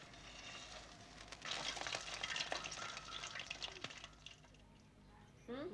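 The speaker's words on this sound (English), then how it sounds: "Gulab jamun, as it is called, is then deep fried" Gulab jamun deep-frying in hot oil make a soft, steady sizzle with bubbling and stirring. It grows louder in the middle and then fades, and a short scraping knock comes at the end.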